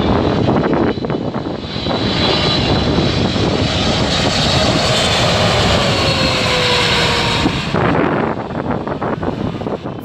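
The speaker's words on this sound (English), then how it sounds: "This Boeing 777 approaching lower than usual." A Boeing 777 airliner passes unusually low on its approach, its engines giving a loud, close, continuous roar with a rising whine that swells and then fades over about ten seconds, with some wind buffeting on the microphone.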